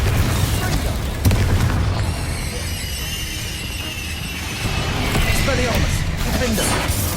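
A Confringo spell explosion in the video game Hogwarts Legacy: a deep, heavy boom swells into a sustained rumbling roar with crackling debris, loud and close, lasting several seconds.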